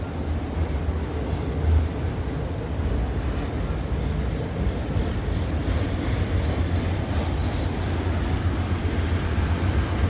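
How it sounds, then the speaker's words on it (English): A long grain train rolling past close by, a loud continuous low rumble and rattle of wagons that holds steady throughout without letting up. "Definitely a grain train coming."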